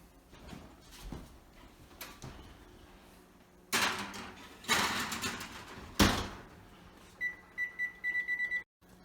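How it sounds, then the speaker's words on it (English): A kitchen oven timer going off while a deep dish pizza bakes, a run of short, evenly spaced electronic beeps near the end, preceded by louder clattering and thumping from the oven. "the timer's going off."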